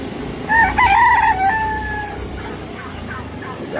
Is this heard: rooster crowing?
yes